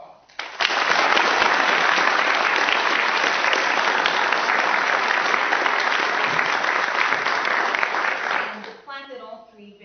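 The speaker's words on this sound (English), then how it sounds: "Let's acknowledge them with a round of applause." An audience at a lecture event gives a sustained round of applause, dense clapping that starts abruptly, holds steady and loud for about eight seconds, then tapers off into scattered claps.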